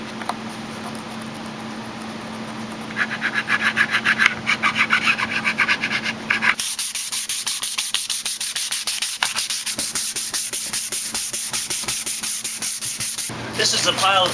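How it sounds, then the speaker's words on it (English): Hand sanding of a walnut wooden tray with sandpaper, close and steady rhythmic rasping strokes that grow brisker and louder midway, continuing without pause. "I've got sandpaper from 60 to 1000, and I've got a variety of different shaped files to get into those corners."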